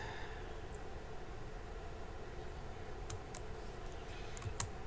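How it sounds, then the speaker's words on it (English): A few soft clicks of computer keyboard keys being pressed near the end over a quiet room hum, sparse taps. "I'm holding down on alt on the keyboard"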